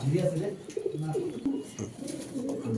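Low, soft coos from Pakistani saddle racer pigeons repeat in a close cluster, overlapping one another with faint fluttering and a little background chatter.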